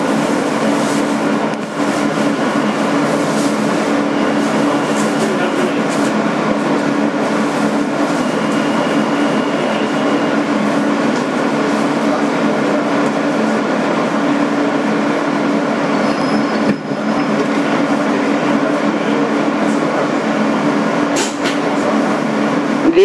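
A 2008 Kawasaki R160B subway car on the N local runs with a constant loud rumbling roar and steady rail noise, with faint clicks over the tracks throughout.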